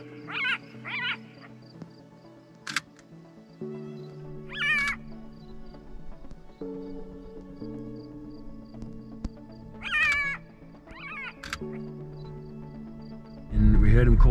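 Jackal calling repeatedly in Kruger at night, short rising wails and yelps coming in bursts over a constant low hum, with people talking quietly between calls.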